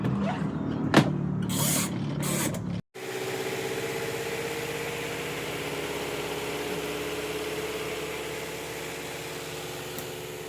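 A laundry dryer spins with a steady, close mechanical hum and rumble that runs continuously after a brief burst of clatter and a short cut at the start.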